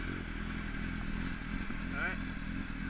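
A Kawasaki ZX10R second-generation sportbike engine idles steadily up close after starting, with a low, even rumble and some light mechanical clatter throughout.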